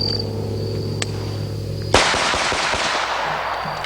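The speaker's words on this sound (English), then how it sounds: "Now let's take our special gun here with our cartridge, with the defense load over twice the power of a 45 ACP." A single sharp, loud shot from a Kimber 1911 pistol chambered in .460 Rowland firing a defense load cracks out nearby after a quiet outdoor hum, then echoes away.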